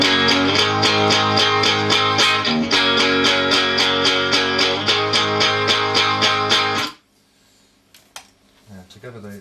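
Distorted electric guitar through an amp, miked with a Shure 57 angled at 45 degrees to the cone: a dense, loud, rhythmic chugging riff for about seven seconds, then an abrupt stop into near silence with faint scattered noises.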